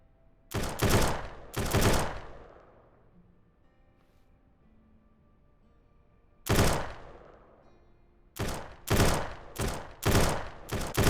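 Gunfire in the zombie survival game Surroundead: two loud bursts early, then a long lull with faint ambient hum, followed by a rapid series of four or five sharp shots near the end, with no talking.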